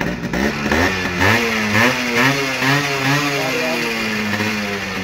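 Yamaha RX100 two-stroke motorcycle engine revving in repeated rising and falling bursts, loud and close, with a rough buzzing tone between throttle blips.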